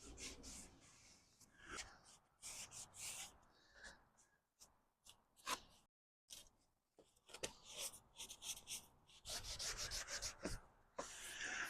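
An applicator rubs over faded car trim in quick, irregular scrubbing strokes, soft and close, with brief pauses between passes.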